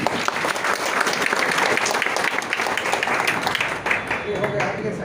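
Loud, sustained applause from an audience fills the hall throughout as a stage is inaugurated at a rural doctors' rights conference, with dense clapping close by and crowd noise mixed in.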